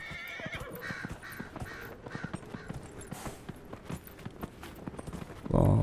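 In Dragon Age Inquisition, a horse being ridden at speed gives a rapid, close clip-clop of hooves with a short neigh or whinny over it, ending in a louder burst of game sound.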